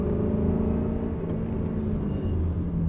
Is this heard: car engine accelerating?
yes